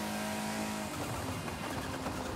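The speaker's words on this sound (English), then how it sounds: "Sounds like a squirrel every time I brake." A car braking in the racing game Forza Horizon 5, giving a loud, continuous engine drone with a brief high squeal that fades as the tone shifts and the car keeps rolling, with no voices.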